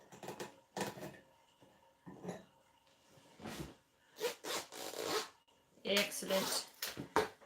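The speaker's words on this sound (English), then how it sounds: "Split my zipper." Several short raspy zipping bursts come in uneven pulses, close by, with quieter gaps between them.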